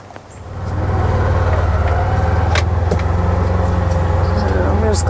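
A car rolls along a wooded dirt road with a loud, steady engine drone and rumbling tires, the noise rising at the start and staying constant, with a voice faintly heard over it.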